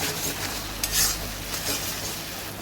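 Masala with salt and turmeric stirred in a pan for fish curry, a steady soft sizzle under scraping and a few clinks of a spoon against the pan, no voices.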